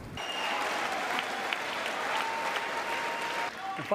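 Ovation in the US Congress during the President's address, a broad, sustained roar of clapping from a large chamber crowd, even and continuous for several seconds before tapering as a voice begins.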